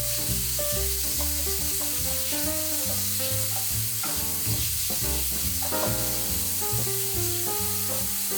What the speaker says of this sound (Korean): 마늘을 넣고 살짝 볶아서 향이 나면 소고기, 양송이 버섯을 넣고